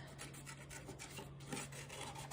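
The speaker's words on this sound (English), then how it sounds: "you're just gonna cut them out with scissors" Paper being cut out with scissors while making a 3D heart-shaped Mother's Day card, heard as a steady close rasping and rubbing of blades through paper, continuous with no speech.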